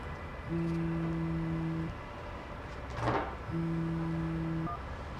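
A telephone rings twice, each a long steady electronic tone, with a pause and a small clatter between the rings.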